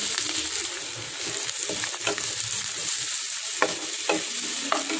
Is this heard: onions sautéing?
yes